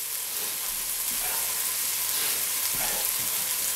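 Onions sauté in a pan for a tartiflette, giving a quiet, steady frying hiss with a faint scrape or two near the end.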